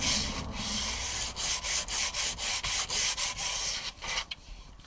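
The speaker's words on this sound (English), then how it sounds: "Give the back of the wood a bit of a stroke with a sandpaper." Rhythmic rasping strokes of sandpaper rubbing the back of a wooden piece for a Dutch barge model, about a dozen quick back-and-forth passes, close and fairly quiet.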